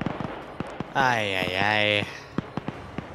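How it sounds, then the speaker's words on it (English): Distant gunfire from firefights in a tactical video game set in Afghanistan, heard as scattered sharp single shots and short bursts, faint and far off, while a voice calls out briefly. "You got these other firefights happening"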